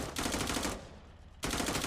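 Gun firing in the VR game Forefront VR: two loud rapid automatic bursts split by a short quieter gap, dense and close, with no talk.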